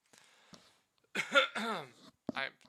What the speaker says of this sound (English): I apologize, guys, with the cough